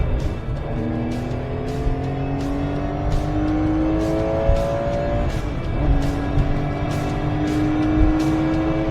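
Singer-modified Porsche 911 engine held at high revs while shifting, with rising pitch sweeps from acceleration and a steady loud drone throughout, plus rapid rhythmic ticking above it.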